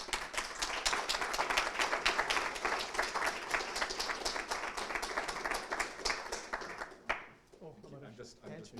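A lecture audience applauds to welcome speaker Nik Nanos, steady loud clapping from many hands for about seven seconds before it dies away and a voice begins speaking.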